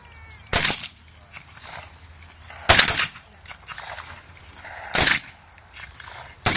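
Civil War muskets firing by file, separate loud cracks spaced a couple of seconds apart at medium distance, each with a short echoing tail and quiet outdoor air between the shots.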